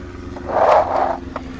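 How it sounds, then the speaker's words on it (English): A mobility scooter carrier platform lowering automatically, a short mechanical whir and rumble that swells and fades within about a second over a low steady engine-like hum, fairly loud and close. "your platform will go down automatically to the ground"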